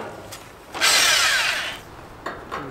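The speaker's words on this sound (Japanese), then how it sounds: "とりあえずアンカーの穴開けますよ" A power drill bores an anchor hole into a concrete slab while a Yodo storage shed is being assembled, a loud steady grinding whir lasting about a second before stopping, followed by faint clicks.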